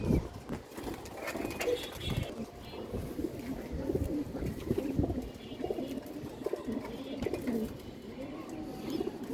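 Several pigeons coo in low, throaty, repeated calls nearby, with some wing flutters and a faint voice in the background.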